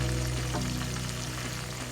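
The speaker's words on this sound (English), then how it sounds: "I'm going to add one fish stock here" Fish stock goes into a waakye stew frying in a pot, heard as a steady, dense sizzle that holds close and even for a brief moment, with no voices.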